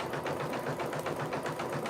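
An embroidery machine stitches out a design on a tee, a steady rapid mechanical hum with a regular pulsing needle rhythm, close and moderately quiet.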